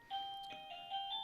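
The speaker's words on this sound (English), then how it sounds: "my doorbell is ringing" A household doorbell chimes in a short, clear sequence of bright electronic tones, ringing several times in quick succession at close range with no one speaking over it.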